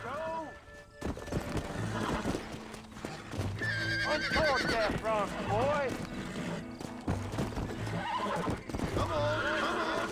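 A horse whinnies repeatedly in rising, wavering calls over steady clopping hooves and a Red Dead Redemption soundtrack, with voices talking over it.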